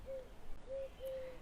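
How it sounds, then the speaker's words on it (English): Three soft, steady owl hoots sound in the distance over quiet background hiss, the last one a bit longer than the others. "You can hear an owl here in the background."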